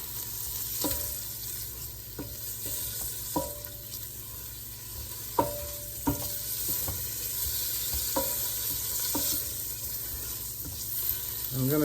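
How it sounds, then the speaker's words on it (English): Collard greens fry in a pan with a steady, crackling sizzle throughout, broken by occasional sharp pops and light stirring clinks, close and fairly quiet with no talking. "I'm gonna just let that sizzle, and it's gonna get a little crispy."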